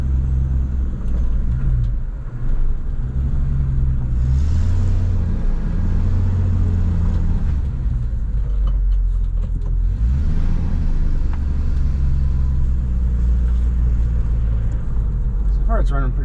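An old Ford pickup, partway through a 2WD to 4WD conversion, runs and drives, its engine a loud, steady low rumble close to the listener throughout, with slight shifts in pitch as it moves.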